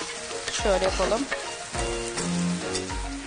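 Ground meat and chopped onions sizzle in a frying pan, a steady crackling fry with stirring, while people talk over it.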